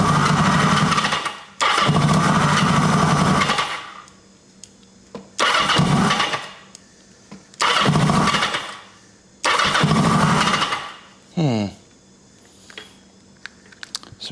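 A 1980 Kawasaki KZ750 motorcycle's electric starter cranks in several loud bursts as the engine catches and briefly fires, each attempt dying away into quiet pauses between tries, close and harsh.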